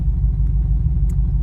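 A 1995 Chevy Caprice 9C1 idles close by, its engine giving a loud, steady, deep rumble with a faint higher click near the end and no talking.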